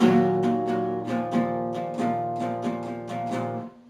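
Two chords are strummed on guitar in a lively rhythmic pattern, many quick strokes sounding close and full, the strings ringing continuously until they fade at the end.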